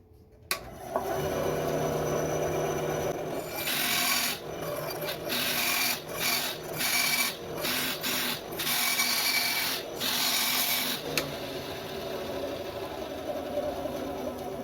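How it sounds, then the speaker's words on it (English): A power saw cuts the contour of a thick wooden bluegill fishing lure in bursts, with a constant motor hum underneath and repeated louder rasping passes, ending with the motor running alone. "Now I want to get my contour, and that's what I'm going to cut now."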